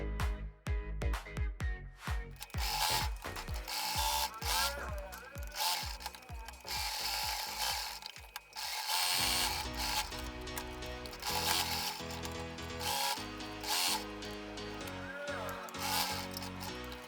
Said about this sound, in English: We're going to sew the webbing to the fabric A.